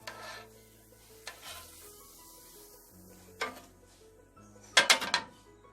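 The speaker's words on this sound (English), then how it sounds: "this is my way of cooking the sausages with baked bean." Sausages with baked beans cooking in a pan, heard as soft bubbling and sizzling with a low steady hum, broken by occasional stirring scrapes and a sharper clatter of utensil against the pan near the end.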